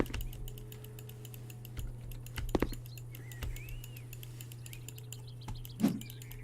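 A computer mouse is clicked rapidly during a House Flipper game session. The sharp, close clicks come in scattered bursts with short gaps between them, over a constant low electrical hum, and no one speaks.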